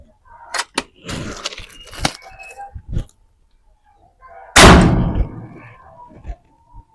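A PCP big-game air rifle fires a single loud, sharp shot midway, preceded by scattered clicks and knocks from handling the gun.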